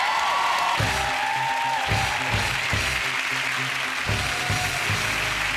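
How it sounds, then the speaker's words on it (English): A television studio audience applauds in a steady, full wash of clapping at a chat show, with low music or thuds pulsing underneath throughout. "let's give Jade a round of applause"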